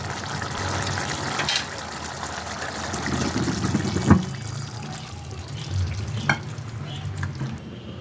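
Cooked kasuri methi chicken gets stirred and scraped out of a pan into a dish, with soft continuous sizzling and wet scraping, a few sharp utensil knocks standing out near the end.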